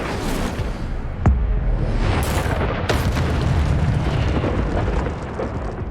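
An Incendio fire spell cast in Hogwarts Legacy flares with a sharp crack, then a whooshing roar of flame, followed by another burst, over dense game ambience.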